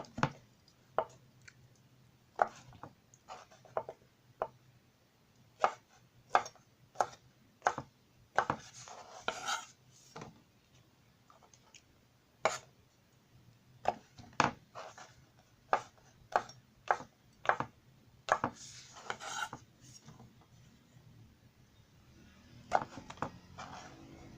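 King oyster mushrooms sliced with a knife on a cutting board give a series of crisp, close chopping taps, steady and irregular, quiet overall with faint background hum.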